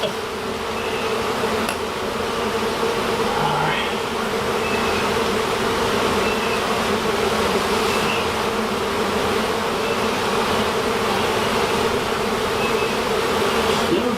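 Inside a shed, a large swarm of bees keeps up a constant, close buzzing hum, thick and even from start to finish, with a few individual bees droning past.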